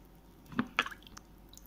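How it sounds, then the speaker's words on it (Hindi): Two soft wet squelching drips close by as water soaks into a clay pot, then a few faint trickling ticks in an otherwise quiet space. "ये देखो ये पानी सोख रहा है"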